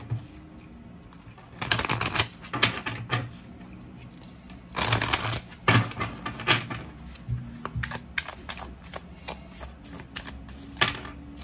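Tarot cards being shuffled by hand, two loud bursts of rapid riffling followed by lighter irregular card taps and slides, close and with no talk over them.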